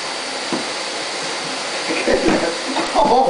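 A vacuum cleaner with an attachment for reaching tight spots runs close by with a steady, broad whooshing roar. Its pitch shifts slightly as the nozzle moves around.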